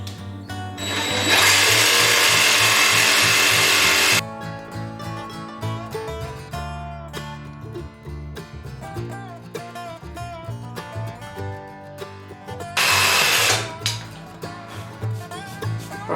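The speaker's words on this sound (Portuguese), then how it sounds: "Então eu vou cortar com a serra tico-tico mesmo." A jigsaw cuts wood for a homemade wooden key holder, its loud high buzzing motor running in two bursts, a long one early and a shorter one near the end, with quieter workshop handling and tool noise between.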